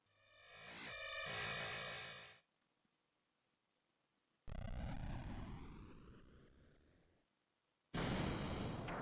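Explosion of the exploding key in the video game Labyrinth.os comes as three separate loud bursts of harsh noise, the first swelling and fading, then a pause, a sweeping roar, and a final abrupt blast, with no talk.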